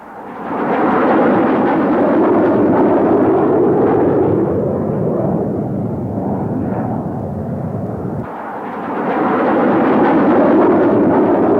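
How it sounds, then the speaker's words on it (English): An aerial bomb dropped from an F-111F during a Desert Storm air assault impacts. The explosion makes a loud, sustained, rumbling roar that fills the whole stretch, dips briefly and then swells again. "until the bomb impacts, and then we get back down to low level for the egress"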